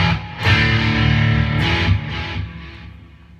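An electric guitar played through a Line 6 amp set wide open on overdrive distortion gives thick, loud sustained chords that swell, then ring out and fade.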